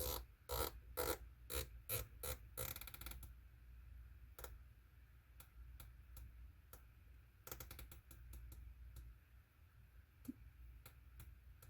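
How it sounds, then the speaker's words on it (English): Turret clicks from a March 3-24x52 rifle scope: quick crisp detent clicks in a rapid burst, then slower, spaced single clicks, very close and faint in a quiet room. "these turrets are about as serious as you can get as far as a positive click feel and sound"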